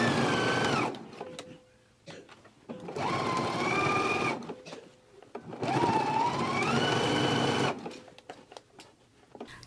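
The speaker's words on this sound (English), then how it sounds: "we can go to the machine and we can stitch it in a 5/8 of an inch seam allowance" A sewing machine stitches a skirt waistband at a 5/8 inch seam allowance, running in three long loud bursts of rapid whirring with short pauses between, sitting close and alone without talk.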